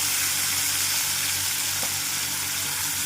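Cucumber pieces dropped into hot oil for a chutney, a loud, steady hiss and crackle of frying that fills the whole moment close up, with no voices.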